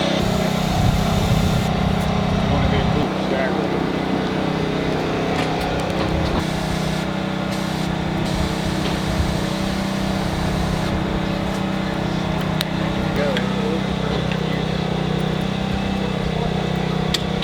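Race car engine idling and revving steadily at Dominion Raceway, a continuous loud mechanical drone close by with no pauses, holding a constant throaty note throughout.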